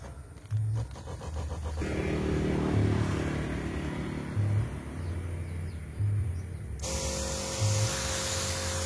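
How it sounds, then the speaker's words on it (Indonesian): A hand sprayer mists liquid onto crop plants at dusk, a steady broadband hiss running for most of the stretch, with a low motor-like hum and rhythmic thumps beneath it before the tone shifts near the end. "Jadi ini kita semprotkan"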